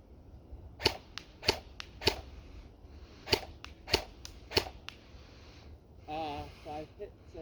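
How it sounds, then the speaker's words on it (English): Semi-automatic shots at a target 40 feet away crack out one by one in an uneven string of about ten sharp reports, with a brief voice near the end. "we're engaging the 40 feet target with semi-auto"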